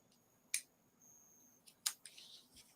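Scissors on a low-cost pocket knife snip twice, giving sharp, close, quiet clicks against a faint background hiss, with a few softer handling ticks after them.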